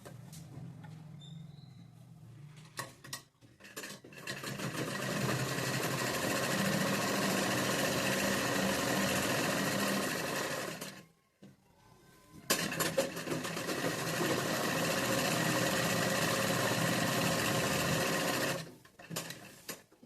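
A sewing machine running steadily while top stitching a chudi, a close, even mechanical whir that runs in two long bursts with a short pause between them and brief stops near the start and end, with no talk.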